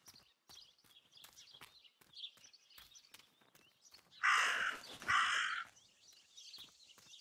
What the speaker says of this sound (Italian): Forse è lo stesso corvo che ha ucciso il passerotto.